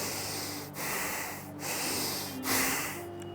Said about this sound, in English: inhale deep and exhale deep